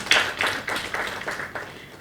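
Audience applause at a launch event held at Hotel Africana in Kampala, heard as a series of brief bursts of clapping spaced about every half second, moderately loud and fairly close, fading slightly toward the end.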